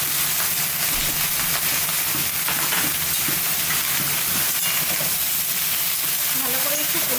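Pumpkin stems fry with salt, turmeric and cumin powder in a pan as they are stirred: a steady, loud hiss of frying runs throughout, with faint stirring movements underneath.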